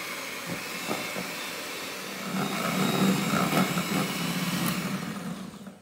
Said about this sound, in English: all we're going to do is whisk this together until it's